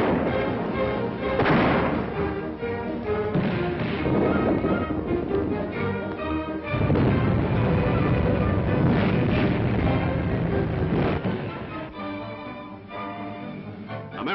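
Anti-aircraft guns fire in a World War II film, a dense, continuous barrage of heavy booming shots with rumbling echoes, loud and filling the whole stretch, from an old, muffled-sounding recording.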